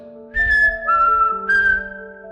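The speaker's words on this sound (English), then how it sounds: "he began to whistle" Someone whistles a short tune up close, three clear sustained notes in a simple descending-and-rising phrase, with no other sound around it.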